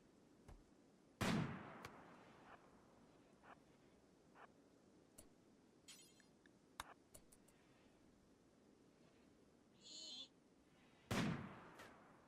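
Sparse gunfire from a RimWorld video game firefight: two loud, sharp shots several seconds apart, with a few fainter clicks and ticks in between against quiet background.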